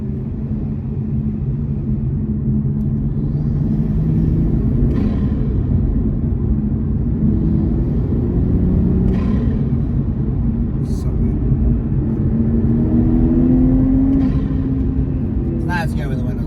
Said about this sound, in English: God, that wind noise is next level.